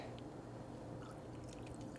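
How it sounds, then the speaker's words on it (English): Sprite topped into non-alcoholic sangria with fruit, a faint fizzy pour with light drips and bubbling, quiet and close. "And then top it with a little bit of Sprite"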